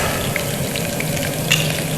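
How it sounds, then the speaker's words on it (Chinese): Garlic and scallion whites frying in hot oil in a pan, a steady, close, dense sizzle crackling throughout with no talk. "锅热，滋油，蒜，还有小葱白"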